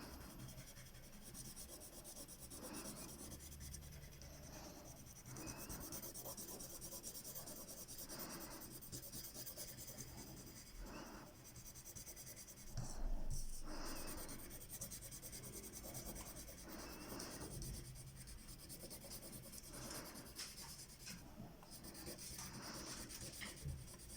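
Coloured pencil strokes shade steadily across paper in repeated top-to-bottom passes, a close, dry rubbing scratch with a regular rhythm and no voices.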